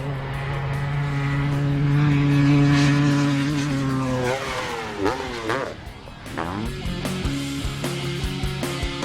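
A Kawasaki KX500 two-stroke 500 engine in a 2009 250F motorcycle chassis, built for a record jump, drones loudly at a steady pitch, then rises and falls through several revs before settling into a rougher, choppier idle.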